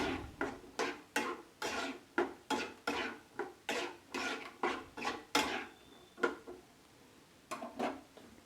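Green peas (matar) for matar paneer are stirred in a cooking pan with a utensil, making a steady run of about fifteen rhythmic scraping and clinking strokes, close and fairly loud, with a short pause near the end.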